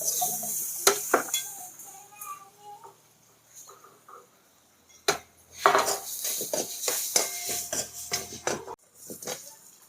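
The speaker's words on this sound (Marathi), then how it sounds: "आता एक बारीक कापून घेतलेला टमाटर टाकून देते" Finely chopped tomato tipped into a pan of spices, including crushed kasuri methi, for a wild fig (umbar) vegetable dish: clinks and scrapes of a utensil against the pan with faint sizzling, some louder knocks, no talk.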